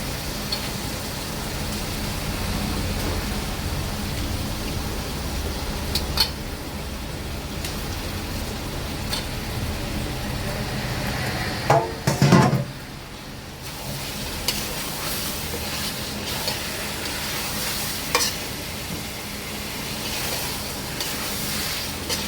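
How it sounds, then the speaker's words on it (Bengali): Vinegar-marinated chicken sizzling and frying in a pan while chicken biryani is being made, a steady hiss and crackle throughout, with a brief clatter and stir partway through. "চিকেনগুলো আমি ভিনিগার দিয়ে ভালো করে ম্যারিনেশন করে রেখেছিলাম, এই যে এবার এর মধ্যে দিয়ে দেবো"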